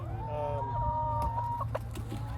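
Backyard laying hens cluck and make drawn-out squawking calls up close, in a string of rising and falling notes over a steady low hum, with no talking.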